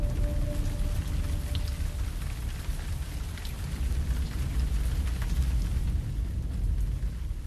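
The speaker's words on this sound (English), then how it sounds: "the sweltering heat gives way to the monsoon showers" Monsoon rain pours steadily onto parched ground, a dense, loud, even hiss with a deep rumbling body that holds constant throughout, with no voices.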